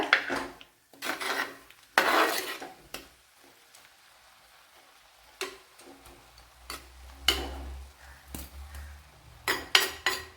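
Beetroot and masala stirred in a pan with a spoon, scraping and clinking in scattered bursts with quiet gaps and a low hum late on.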